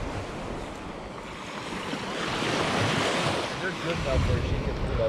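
Gentle waves washing onto the beach at Orange Beach, Alabama, a steady soft surf wash with some wind noise on the microphone, building slightly toward the end.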